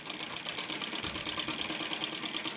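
A sewing machine stitches the hem of a saree with a fast, even mechanical whir and rapid rhythmic clatter, heard close and fairly quiet with no voices.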